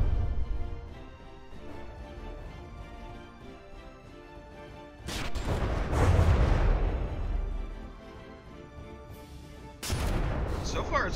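Artillery and gunfire from the Otsarva warship in the From the Depths game rumble and crack, with a heavy burst of booms midway and another sharp volley near the end, alongside a voice talking.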